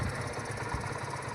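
Tractor engine running steadily at a close, even idle-like drone while the hydraulic system is operated, a brief continuous rumble.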